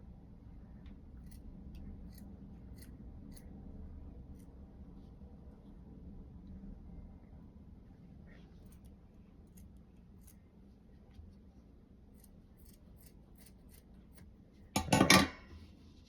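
One quick, sharp snip of dull scissors near the end, after a long stretch of low room rumble with faint scattered ticks.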